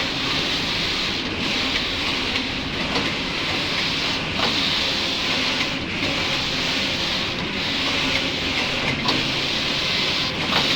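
Pump system machine running steadily in a newly started mill floor, a dense continuous mechanical roar with faint periodic clicks, loud and close with no talk over it.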